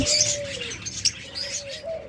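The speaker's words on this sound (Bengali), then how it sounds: "সকল প্রকারের ঘুঘু পাখি রয়েছে" A dove gives a long, low, steady coo, then another toward the end, among bright chirping from other birds nearby.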